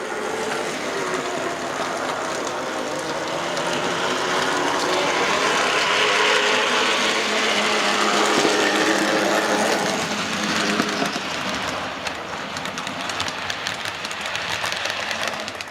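Model railway trains running on a Tri-ang layout, a steady whirring, clicking rattle of wheels over track joints that holds continuously and fairly loud, swelling slightly midway, with no talking.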